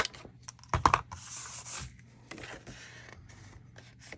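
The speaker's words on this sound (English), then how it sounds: "I'm just gonna use my punch here to cut out a tag shape" A handheld craft punch cuts a tag shape from paper in a papercraft setting, giving a sharp, close crunching snap near the start followed by light paper rustling and handling.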